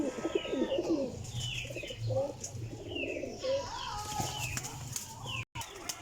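Golden pigeons coo in soft, repeated calls at close range, with some flapping of wings and a chirp or two, while someone talks over them.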